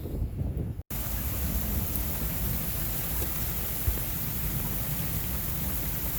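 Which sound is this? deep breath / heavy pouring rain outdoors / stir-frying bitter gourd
heavy pouring rain outdoors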